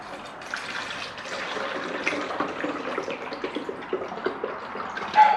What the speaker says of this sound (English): What I'm gonna do is I'm gonna fill it to the line.